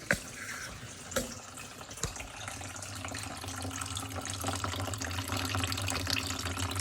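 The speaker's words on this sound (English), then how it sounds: "We're just gonna drain it out into a 1 gallon container just so you can see." Kava pouring from a bucket into a one-gallon container, a continuous close trickle and splash that swells slightly as the flow goes on, with a few clicks early on.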